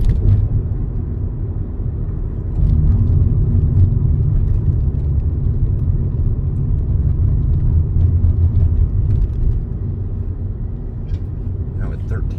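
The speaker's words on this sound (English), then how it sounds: "See the traffic crawling overhead there at" Road traffic in downtown Miami, a continuous low rumble of cars and engines that stays steady throughout, with a voice talking over it.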